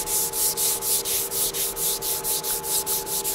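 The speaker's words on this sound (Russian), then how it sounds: "лучше это делать липкой салфеткой, конечно, не бумажной" A tack cloth is wiped over a car panel in a garage before two-layer clearcoat is applied, making a fast, even run of about fourteen close, hissing rubbing strokes.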